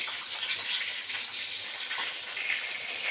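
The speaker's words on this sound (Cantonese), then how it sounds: "苦瓜兩邊煎到黃咗，之後煎旁邊可以黃啲" Bitter melon pan-frying, browning on both sides, giving a steady, soft sizzle with a hissing, watery texture that holds evenly throughout, no talk over it.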